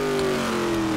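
A Chevrolet Silverado pickup's engine revs steadily in the game Gmod, a continuous mid-pitched drone with a slowly falling tone, loud and close for about a second with no talking.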